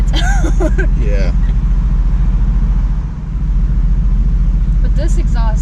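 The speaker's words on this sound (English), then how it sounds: "But this exhaust in particular, this car in particular, definitely crackles more than the C63S." A 2018 Mercedes-AMG GT C Roadster's exhaust rumbles steadily and loudly from up close, dipping briefly midway, with voices talking over it at the start and end.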